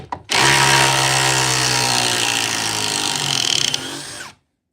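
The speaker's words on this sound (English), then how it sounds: "you're literally seeing the first screws we're screwing in" A cordless power tool, an impact driver, drives screws into wood in one sustained, loud, close run of motor whine lasting about four seconds, ending in a rapid burst of hammering impacts before it cuts off.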